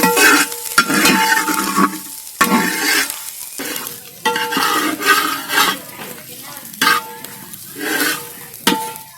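Kootu curry mix stirred as it fries in coconut oil over an outdoor fire: a steady run of scraping, clinking stirs against a pan, with a continuous sizzle underneath and short pauses between strokes.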